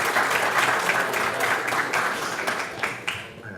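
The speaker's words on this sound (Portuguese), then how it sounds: "Uma salva de palmas para o seu Celso, por favor." Applause from the audience at a community health event in Brazil, a steady wash of many hands clapping at moderate distance that gradually thins toward the end with a few louder individual claps.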